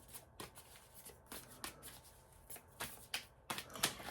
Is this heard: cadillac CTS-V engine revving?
no